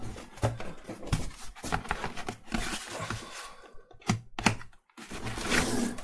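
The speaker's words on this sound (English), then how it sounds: "now I'm going to cut the cardboard" Cardboard being cut for a Darth Vader helmet build, heard as a run of close, uneven scraping and crunching slices with short pauses and a few brief gaps near the end.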